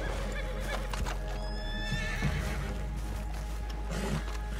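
A horse neighs and whinnies in the online Western game Red Dead Online, a drawn-out call over steady game ambience with hoof clip-clop nearby, loud and close.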